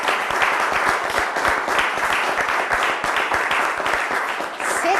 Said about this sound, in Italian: Sì, l'applauso ci sta anche ad Enrico.